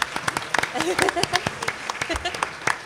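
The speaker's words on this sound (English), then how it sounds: "Everybody, good clap for Linda." Audience at an indie toy panel at San Diego Comic Con 2013 claps for Linda, a brief burst of scattered hand claps with a voice speaking over it.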